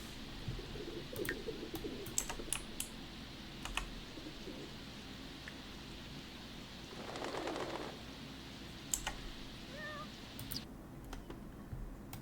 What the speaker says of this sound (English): She just caught a pigeon.